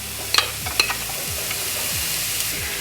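Diced onions sizzle in an oiled pan, a loud, close hiss with a couple of sharp metallic clinks near the start and light stirring scrapes throughout.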